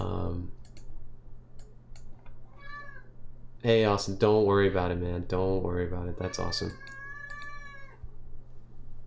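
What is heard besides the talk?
cat meowing for attention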